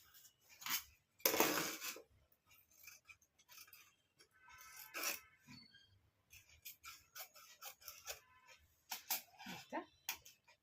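Scissors cut blouse fabric for an eye-collar-neck blouse, producing close, irregular snips, rasps and rustles separated by short quiet gaps.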